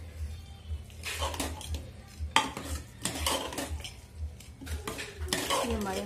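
Spices for chole are mixed in a bowl with coriander leaves, black salt and plain salt, producing repeated scraping and clinking strokes in uneven bursts, close by, over a low steady hum.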